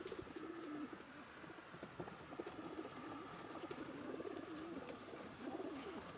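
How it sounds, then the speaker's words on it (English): Pigeons in baskets coo softly and repeatedly nearby, layered over a constant murmur of many birds and faint rustling. "The green baskets are Jim's birds."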